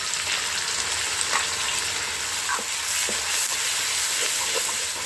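Ground masala tipped into a hot pan over a village wood-fired stove for ridge gourd curry: a steady, bright sizzle and crackle of frying with occasional stirring scrapes, close and continuous, with no speech.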